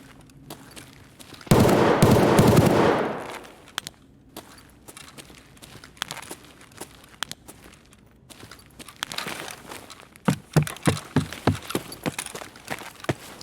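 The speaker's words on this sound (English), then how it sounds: "He's shooting at someone over here." Gunfire in a raid-based shooter game set in a lab, a loud burst of automatic fire followed by scattered distant shots and then a rapid string of sharp close shots.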